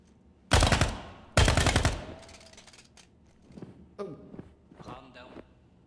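Two loud bursts of automatic gunfire crack out close by in the Ground Branch tactical shooter, each lasting about half a second, followed by scattered fainter shots, thuds and movement noises, with no voices.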